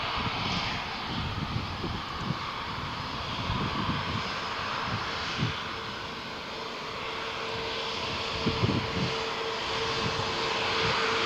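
Brussels Airlines airliner on the runway at Malaga Airport on a stormy morning, its engines giving a steady, loud, broadband roar that holds for the whole stretch with no voices over it.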